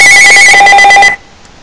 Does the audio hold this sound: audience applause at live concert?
no